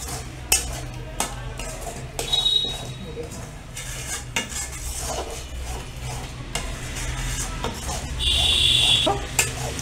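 Coriander leaf sauce being stirred in a pan, with repeated scraping and clanks of a metal spoon against the pan over a soft sizzle, loud and close with an uneven rhythm.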